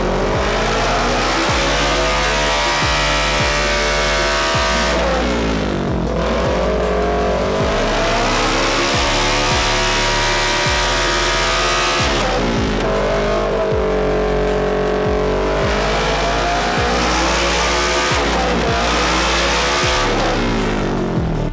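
A stock motor running wide open throttle on a dyno, a loud, sustained engine roar with pitch sweeping up through repeated pulls and brief drops between them, no voices.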